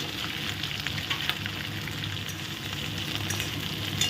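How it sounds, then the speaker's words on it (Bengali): Onions, chopped green chillies and diced potatoes frying in a pan give a dense, even crackle and hiss, close and steady with faint stirring ticks. "পেঁয়াজ, কাঁচা লঙ্কা কুচি, দিয়ে ডুমো করে কেটে রাখা আলুগুলো দিয়ে দিচ্ছি।"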